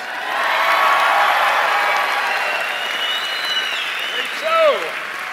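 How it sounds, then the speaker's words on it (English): An audience at an Ignite Phoenix slideshow karaoke event claps and cheers for the evening's champion in a loud, sustained wash of applause, with whoops and raised voices rising near the end. "Another big round of applause"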